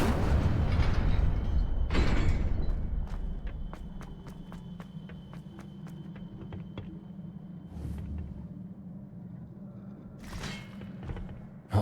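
An Incendio fire spell blasts in Hogwarts Legacy with a loud whooshing burst at the start and another right after. Clicks and soft steps follow, then a final fiery flare near the end.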